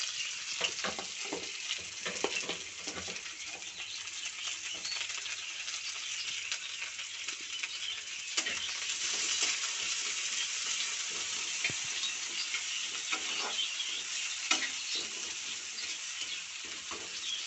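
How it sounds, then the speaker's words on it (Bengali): Onions fry and sizzle in a pan with continuous hissing, while a utensil stirs and scrapes them in irregular strokes, close and moderately loud throughout. "পেঁয়াজটা ভাজা ভাজা হোক"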